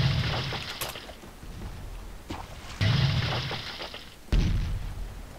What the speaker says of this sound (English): Fire the cannons!